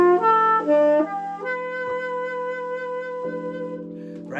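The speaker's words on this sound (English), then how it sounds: "now imagine we're playing it with the actual chord and see what it actually sounds like" A sustained Lydian major 7 sharp 11 chord rings out, with notes shifting within the voicing as it continues and decays evenly, fairly loud and close, with no talking.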